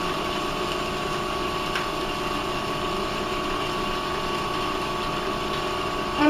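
A food processor runs in a steady, unbroken whir, grinding cookie ingredients for Italian mezzaluna cookies as pieces are added a little at a time, with no talk over it.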